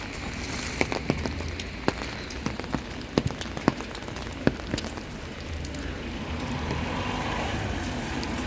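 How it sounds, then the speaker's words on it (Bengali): Rain pours steadily onto a city street in Bari, Italy, a dense continuous hiss with sharp drip and splash taps scattered throughout, close and fairly loud with no talking. "দেখতেই পাচ্ছেন কি বৃষ্টি ওয়েদার খারাপ"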